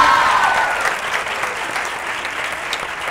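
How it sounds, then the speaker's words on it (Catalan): An audience claps for quiz contestants in a Catalan TV quiz-show studio, a dense, loud round of applause that starts strong and eases slightly but keeps going steadily throughout. "vull un aplaudiment ara sí per elles i per ells"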